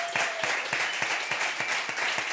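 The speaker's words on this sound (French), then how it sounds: "Mesdames, messieurs, voulez-vous applaudir Sabine et Loïc?" Studio audience applause at a French comedy show, a dense wash of clapping with a rhythmic pulse of regular beats running through it, steady and moderately loud.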